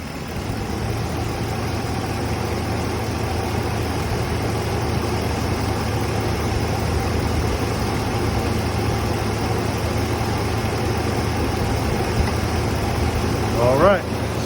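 A car engine idles during an air-conditioning service, a steady low hum that holds at an even level throughout, with people talking faintly over it and a brief clatter near the end.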